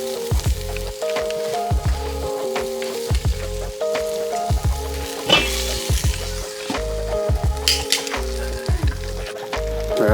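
Kala fish pieces with bones and skin on sizzle over a grill in a steady, crackling frying hiss, with music playing alongside.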